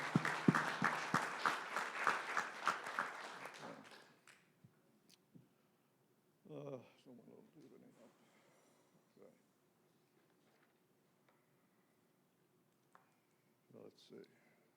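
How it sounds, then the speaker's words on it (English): Applause for hard-working golf and greens committee members at a board meeting: a burst of clapping for about four seconds, loud at first and then fading, followed by scattered murmurs and quiet room noise. "a little round of applause for all these hard-working people"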